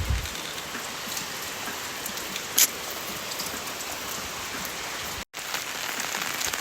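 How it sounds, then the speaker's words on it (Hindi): Steady rain falling outdoors in Arunachal, India, a dense, even patter on surfaces that continues without a break, with a brief click partway through and no voices. "आवाज़ आ रही है मुझे बारिश की"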